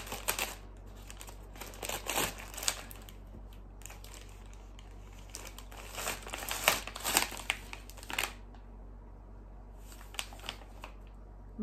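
Plastic wrapping of a Wish mystery package crinkles and rustles in bursts as it is torn open, close and fairly quiet, with short pauses between handfuls.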